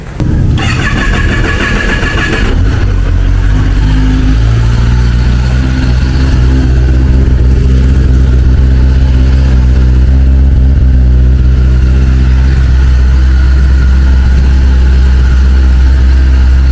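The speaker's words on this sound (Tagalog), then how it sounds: "iparinig ko muna kung ano yung tunog ng stock exhaust" A Kawasaki ZX-10R sport motorcycle engine cranks and starts, then settles into a steady, fairly quiet low idle with stock exhaust, close by and continuous.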